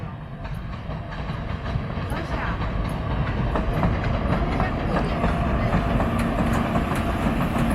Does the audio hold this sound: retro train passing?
yes